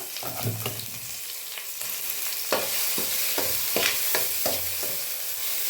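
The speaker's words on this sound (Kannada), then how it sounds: "ಈಗ ಇದಕ್ಕೆ ಚಟ್ನಿ ಹಾಕಿ ಸ್ವಲ್ಪ ಒಂದು ಸುಮ್ಮನೆ ಫ್ರೈ ಮಾಡಿಬಿಟ್ಟು" Tomato coconut chutney fries in a pan with a constant crackling sizzle, joined by several sharp scraping stir strokes that recur every second or so.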